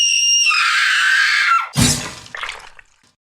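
A loud, sustained high scream of pain holds for about a second and a half, then breaks off into a harsh crash and a fading clatter, with nothing after.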